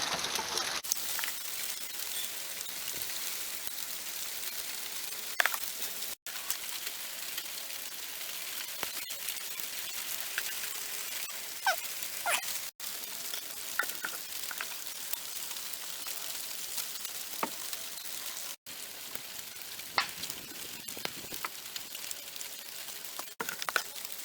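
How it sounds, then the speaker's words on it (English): Hard rain falls steadily outdoors while a vehicle's dirty oil is being changed, a faint continuous patter with scattered sharper drips and clicks and no talking. "it's starting to rain quite hard now"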